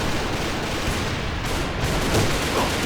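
Dense, continuous gunfire from the shooter game AVA, rapid overlapping shots forming a loud, unbroken barrage with no one speaking.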